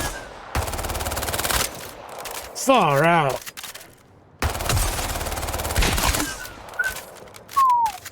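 Bursts of held automatic gunfire in the video game Highguard, loud sustained rattling volleys broken by short gaps, with a voice talking briefly between them.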